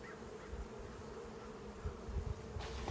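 Honey bees buzz around an opened hive split holding frames of brood, a faint, steady swarming hum with a few louder passes close by, and no talk.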